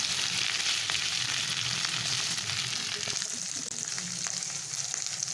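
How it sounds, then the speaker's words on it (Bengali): Ginger-garlic paste and green chillies fry in oil in a pan for a Rui fish curry with flat beans and potatoes. A dense, even sizzle holds close and steady throughout, with faint occasional stirring clicks. "তারপর দিয়ে দিলাম আদা রসুন বাটা আর কাঁচা লঙ্কা। এখন এটা তেলের সঙ্গে হালকা করে"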